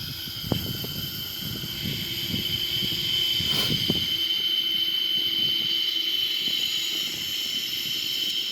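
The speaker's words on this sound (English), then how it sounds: "So the engine is gonna start automatically." A Boeing 777-300ER's right wing engine spools up during start, a steady broad roar with a high whine held throughout, heard from inside the aircraft with a few faint clicks early on.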